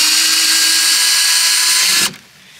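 An electric screwdriver backing out Phillips head screws whines loudly and steadily up close for about two seconds, then stops abruptly.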